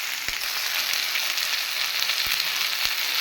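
Ridge gourd pieces sautéing in a pan for chutney make a steady, bright sizzle close by, with a few soft knocks from stirring and no talk.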